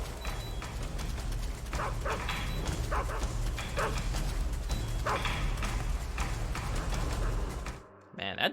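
A guard dog in the Metal Gear Solid 3 video game barks in repeated short bursts against a steady, dense game soundscape, while someone talks over it.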